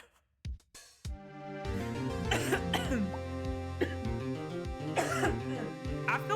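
A short cough bursts out near the start of an Ace Attorney game scene, followed by a couple of brief throat sounds before steady background music takes over.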